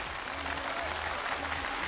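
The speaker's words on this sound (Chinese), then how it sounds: "掌声送给他们" At a televised choir competition final, a studio audience applauds a choir. The clapping is soft, even and continuous, a dense wash of hands heard from a distance.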